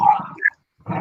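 A dog growls and grumbles in short, close bursts, with a brief silent gap before the rumbling starts again.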